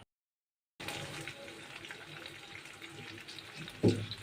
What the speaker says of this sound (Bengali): ভাজা ভাজা হয়ে গেছে, একদম করকর শব্দ হচ্ছে।